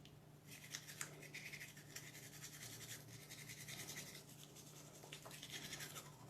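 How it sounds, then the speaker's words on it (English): Close, steady scratchy scrubbing of a toothbrush working over teeth, continuous soft brushing strokes with a faint low hum underneath. "so to brush your teeth, I always start in one point and work my way around"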